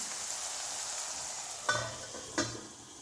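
Dry prawn and dried gongura curry cooks in a pot with a soft, steady sizzling hiss, broken by two short clinks near the end.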